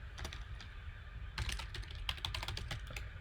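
Keys clatter in irregular bursts on a computer keyboard as CSS code is typed out, close and fairly quiet with no voices.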